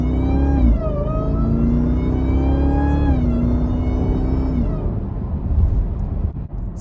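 Jeep Trackhawk with an LMI Legmaker cold air intake accelerating hard, a loud rising engine whine with gear shifts breaking the climb twice before the revs drop and fade to road noise.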